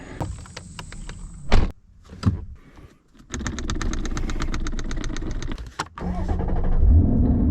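A Ford Mustang GT sits idling with car noises close by: door thuds and clicks, then a steady engine hum broken by quick mechanical clatter, ending in a louder, rumbling run.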